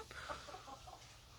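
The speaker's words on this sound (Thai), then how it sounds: "ไก่สาวครับ ไก่สาวสี่เดือน" Young four-month-old laying hens cluck softly in a small backyard flock, with scattered short clucks over a steady low background hum.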